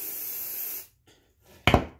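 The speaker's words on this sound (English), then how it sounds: "So I spray it down constantly until they all just go up into my ponytail." A spray bottle misting hair, heard as a short close burst of spray near the end after a longer hissing rush and a brief quiet gap.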